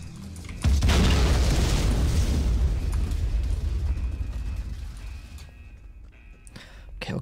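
An explosion in Kane and Lynch: Dead Men hits as one heavy, close boom, then rumbles and slowly dies away over several seconds, leaving quiet debris noise behind.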